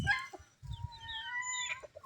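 Farm chickens cluck in short bursts over several high, drawn-out calls, moderately close but fairly faint.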